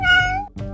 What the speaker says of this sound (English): if we become a cat, we may not be able to control our meow meow